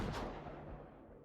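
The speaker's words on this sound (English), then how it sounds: "It sounded like the cannons were cracking into the building directly, bursting through the walls." Cannon fire bursts into a building in a drama sound effect: a single muffled, booming impact that fades quickly, fairly faint.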